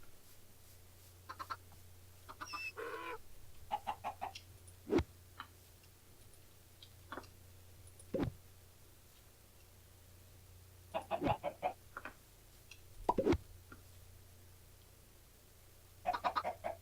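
Chickens in a modded Minecraft-style game cluck in short, scattered bursts over a steady low background hum, with quiet gaps between the calls.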